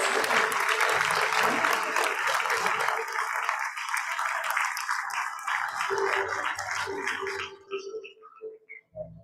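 Parents clap and cheer steadily at a pre-primary school convocation ceremony, a broad wash of applause that holds for several seconds and then thins out into scattered claps at the end.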